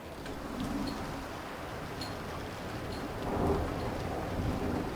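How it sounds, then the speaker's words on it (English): Heavy rain pours steadily while thunder rumbles low and continuous, swelling louder toward the end. "That's thunder. And thunder."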